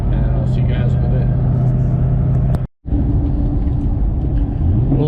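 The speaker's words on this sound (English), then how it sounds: "let's go ahead and head over, do some pulls in the GT500" A Shelby GT500 with long tube headers and stock mufflers idles and rumbles up close in a steady drone, briefly cutting out before resuming; speech is picked up over it.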